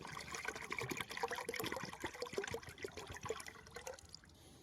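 Water poured from cans into a drum for mixing pesticide spray makes a close, splashing trickle with irregular gurgles, fading away toward the end.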